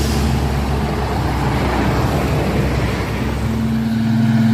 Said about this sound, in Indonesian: 2 truk busu coklat dan oranye menanjak ngambil jalur kanan.